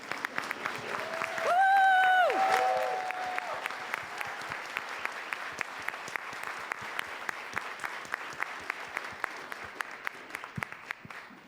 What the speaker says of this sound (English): please accept the applause of the room for the work that you're doing right now